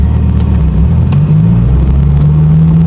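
Loud, deep rumble of a Dodge Viper engine pulling away, its pitch climbing as it accelerates, heard close with no voices.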